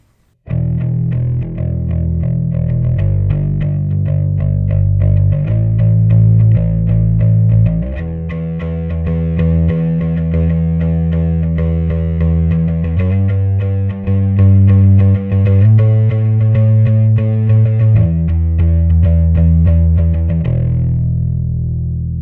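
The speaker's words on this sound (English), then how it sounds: "I love being able to run the tube screamer that way, just giving the blend and being able to adjust, more gain or less gain or more treble from the tube screamer" Bass guitar run through a Tube Screamer blended in parallel through an HX Stomp FX loop, about 45% mix, playing a continuous distorted line of sustained notes with shifting pitches and a gritty, driven edge, loud and with no talking.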